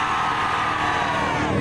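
A brief, dense roar from a crowd at a rev battle cheering for a Mustang, loud and continuous with no gaps.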